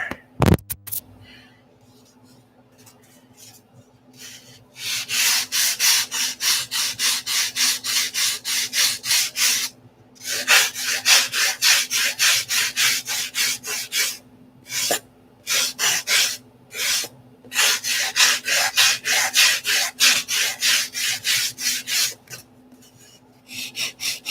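Wood on an aircraft wing is being ground down with a rasping tool in long, rhythmic rough strokes, close and loud, in repeated bursts separated by short pauses.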